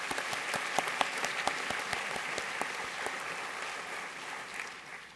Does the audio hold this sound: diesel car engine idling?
no